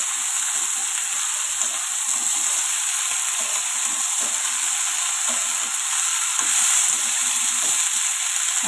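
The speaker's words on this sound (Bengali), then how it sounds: "এটাকে আবার ভালো করে নাড়াচাড়া করতে হবে" Potatoes, taro and yard-long beans sizzle steadily in hot oil in a pan and get stirred. The frying hiss is continuous and fairly loud, with soft scraping stirs throughout and no talk.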